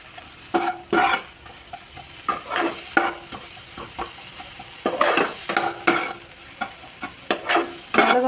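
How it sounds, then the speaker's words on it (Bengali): Vegetables with stems and turmeric sizzle in hot oil while a spatula stirs and scrapes the pan in repeated strokes, close and fairly quiet, with no talking. "এবার এগুলোকে ভালোভাবে ভাজতে হবে।"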